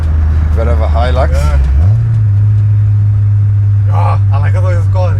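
A VW Mk2 Golf GTI 16v engine revs and holds a steady, loud drone that steps up in pitch partway through, with people talking over it at the start and end.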